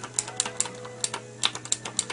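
Keys on a mechanical keyboard with Cherry MX Green switches are pressed in a quick irregular series of about a dozen sharp, crisp clicks, close and clear over a faint steady hum.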